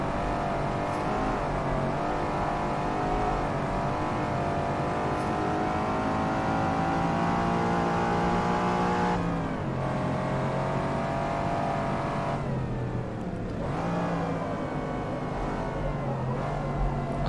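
Race car in Forza Motorsport held in a long, steady engine roar while drifting, loud and continuous with shifting pitch and two brief dips where the revs drop and climb again.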